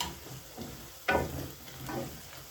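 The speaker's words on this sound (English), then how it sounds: "So it's good to keep on stirring" Garlic fries in a pan for beef pilau while a spoon stirs it, with a soft steady sizzle and a few scraping strokes, one sharper scrape near the middle.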